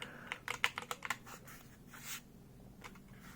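Quick bursts of typing on a 60% computer keyboard with a wrist rest give close, crisp key clicks in a rapid cluster, then sparser taps and a soft shuffle, with no voice heard.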